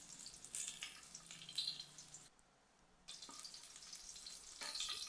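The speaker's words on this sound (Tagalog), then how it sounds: "Yan, gisan natin yung bawang." Garlic sautés in a kawali with a steady, fairly quiet hiss of sizzling oil that drops away briefly partway through, then returns with light scraping.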